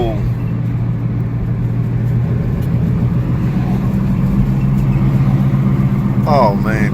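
Front-wheel-drive Jeep Compass with a suspected failing CVT transmission, driving with a steady low roar and hum inside the cabin, while someone talks over the noise near the end.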